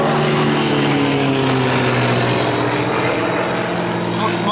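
Propeller airplanes fly overhead during a town celebration marking Salantai's 500th anniversary, a loud, sustained engine drone with a steady humming pitch that fills the whole stretch.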